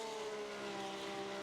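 Race cars driving in the iRacing Arcade video game, a steady engine drone with a sustained tonal whine, continuous and even, heard alone without talk.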